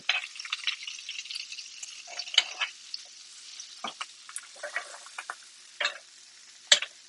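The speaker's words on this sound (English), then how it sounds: "as soon as the butter melts down, you can move it around the pan for a little bit" Butter melting in a cast iron pan, with a faint, patchy sizzle of small crackles and pops, irregular and fairly quiet against a near-silent background.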